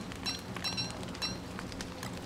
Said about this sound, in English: It's been raining all goddamn day.